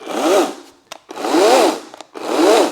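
A Ryobi 40V cordless chainsaw revs up in three short bursts, each a rising then falling whine that cuts off between runs, close and fairly loud.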